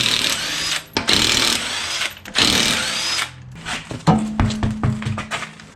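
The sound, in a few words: power tool removing a wheel from a Lexus GS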